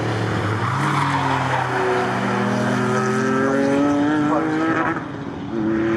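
A loud Morgan race car engine screaming past at Snetterton, its pitch climbing steadily as it accelerates, with a brief dip in volume near the end; the engine sounds flat.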